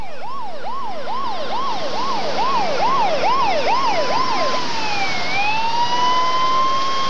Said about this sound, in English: Rescue units with McDowell County Ambulance Authority arrived within a half hour of Donnie's accident.